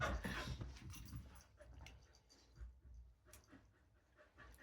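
Two dogs pant and huff close by while playing and tussling over toys, quick breathy puffs with a few faint whimpers and soft thumps, fairly quiet overall.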